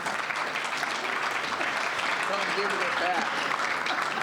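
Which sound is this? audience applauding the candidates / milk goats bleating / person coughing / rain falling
audience applauding the candidates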